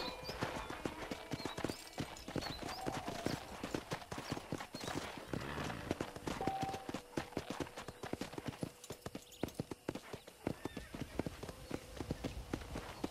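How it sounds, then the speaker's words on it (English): Horse hooves clip-clop in a quick, steady rhythm over ground in the video game Red Dead Redemption, continuous and fairly close, with a faint whinny partway through. "let's see if you can still ride a horse."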